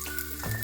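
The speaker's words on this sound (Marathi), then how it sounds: "मोहरी तडतडली की आपण लसूण घालतो आहे." Garlic pieces sizzle in hot oil with popping mustard seeds, a brief, close crackle with no voices.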